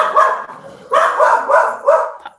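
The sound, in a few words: dog barking in the background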